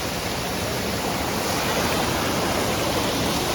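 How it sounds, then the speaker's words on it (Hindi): Strong, fast-flowing mountain stream along the Vaishno Devi pilgrimage route during heavy rain, a loud steady rushing roar of water that stays constant and close throughout. "पानी का जो करंट है काफ़ी ज़्यादा है"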